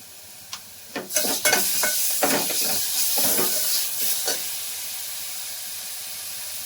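Ginger garlic paste frying with onions in a hot pan bursts into a loud sizzle after a short pause, with several stirring scrapes, then settles into a softer steady hiss.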